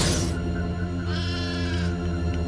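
Goats bleat loudly and close over a busy background, with a drawn-out wavering bleat running through the middle and more voices overlapping in a dense mix.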